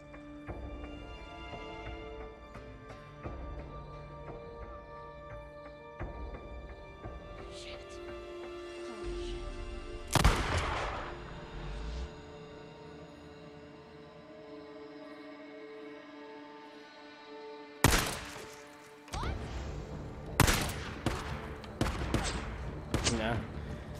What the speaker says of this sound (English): Let's try to get some pistol snipes.